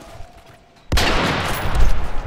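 Heavy gunfire in Call of Duty: Modern Warfare 3 multiplayer on the Seatown map, with snipers in play, erupts suddenly after a quiet stretch and continues as a loud, dense barrage to the end.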